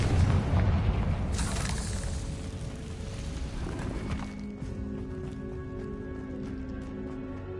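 A Confringo spell explosion in the wizarding game Hogwarts Legacy, a loud fiery burst with rumbling debris, fading into a quieter, ringing tail.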